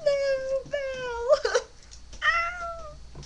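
A voice imitates a cat, giving several drawn-out meows one after another, close and fairly loud, with brief gaps between them.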